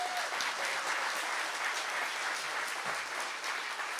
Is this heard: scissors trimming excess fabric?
no